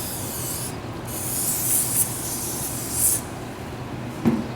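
Penetrating oil sprayed onto a pinch bolt on an E350 ball joint: a close, steady aerosol hiss lasting a couple of seconds over a low background rumble, followed by a brief tap.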